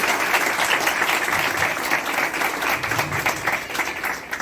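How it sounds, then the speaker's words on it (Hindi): A Palm Sunday church congregation applauds loudly and continuously, giving a dense, close wall of clapping with no break. "आइए एक बार फिर खुदावंद के जलाल के लिए जोरदार तालियां।"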